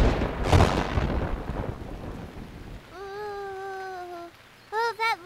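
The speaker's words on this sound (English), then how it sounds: "that lightning came really close, didn't it, Moo Moo?" A cartoon thunderstorm: a loud rumbling thunderclap swells over steady rainfall, then fades as the rain continues, followed by short tonal voice-like sounds.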